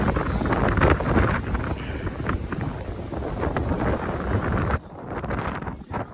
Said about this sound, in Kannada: ಫುಲ್ಲು ಗಾಳಿ ಇದೆ